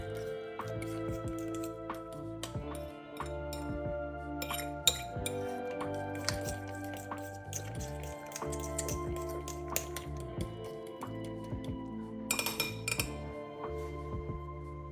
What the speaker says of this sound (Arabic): صافي نخلط العناصر كامله